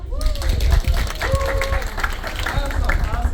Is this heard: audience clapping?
yes